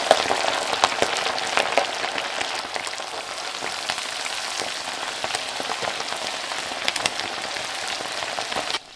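Chicken wings frying in peanut oil heated to about 350–375 degrees, a close, dense crackling sizzle with popping bursts throughout, steady and unaccompanied by speech.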